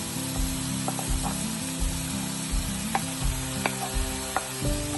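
Carrot and potato pieces fry in an oiled pan for a beans palya, a steady loud sizzle with occasional light scraping taps of a spatula stirring the vegetables.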